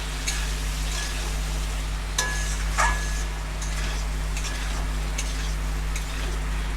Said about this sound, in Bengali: আবার একটু জল দিয়ে এই যে কষাচ্ছি